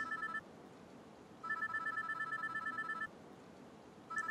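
A payphone in a phone booth rings with an electronic trill, two long ringing bursts separated by pauses and a third starting at the end, moderately loud against faint street ambience.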